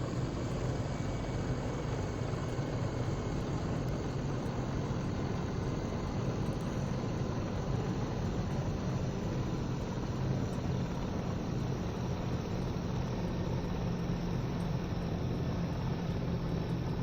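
A CowanSim 500E helicopter in Microsoft Flight Simulator 2020 with its throttle rolled down and ignition off, a steady loud engine and rotor drone running on alone.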